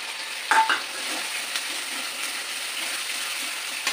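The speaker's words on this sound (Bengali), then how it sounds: "এই মশলাগুলো এবার আমি একটু কষিয়ে নেবো।" Spices sautéing with fried onions in a pan, a steady low sizzle with a few sharp stirring scrapes near the start and end, no voices.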